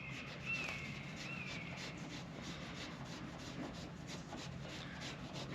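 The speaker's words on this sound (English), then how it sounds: "We want to keep it a little moist and just keep rubbing it for a while." A moist 3M lead test swab is rubbed against a cut edge of mobile home siding, giving a soft, continuous scrubbing rasp that is close but faint. A few bird chirps sound in the background, and no one speaks.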